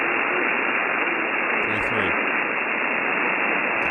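A faint ham radio transmission on the 10-meter band sits buried in a steady wash of loud hiss and static, with only a brief weak burst of signal partway through.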